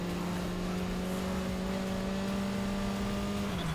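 Race cars in Need for Speed Heat, including a Mercedes A45 AMG, hold a steady engine drone with a sustained tonal whine that drops slightly near the end, loud and continuous with no talking.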